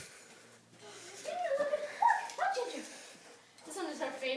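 A dog yips, whimpers and gives short excited barks during play, the sounds rising and falling over several seconds while people talk nearby.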